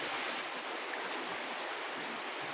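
Steady rain falling outside a house, a dense, even hiss of water that holds at the same level throughout with no voices or other sounds.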